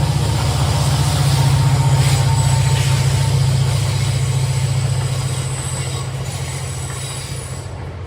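A train passing on nearby railroad tracks along the Appalachian Trail, a loud, close rumble of rolling cars with a steady low drone that slowly fades over several seconds.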